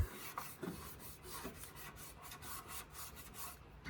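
Cloth rubbing grime off a Can-Am Spyder motorcycle fuel tank, a quiet series of soft repeated scrubbing strokes in a steady back-and-forth rhythm, close and faint.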